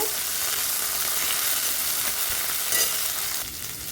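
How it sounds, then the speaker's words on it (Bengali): Cumin paste frying in oil in a pan makes a steady, close sizzle while being stirred, with a faint scrape near the end and no voices. "জিরে বাটাটাকে একটু তেলের সঙ্গে ভালো করে কষে নেব বা একটু ভাজা ভাজা করে নেব"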